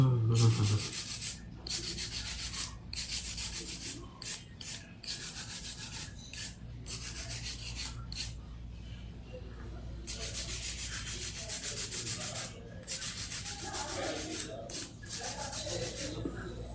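A hand file rubs across an acrylic nail in repeated back-and-forth strokes, a close, dry scratchy rasp in bursts separated by brief pauses.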